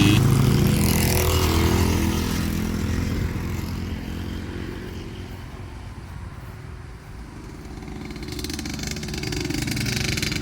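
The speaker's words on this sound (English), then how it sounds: "Damn, that YZ's loud." Yamaha YZ dirt bike engine running outdoors, a loud buzzing roar that eases off midway and then builds again, heard close with no clear talk over it.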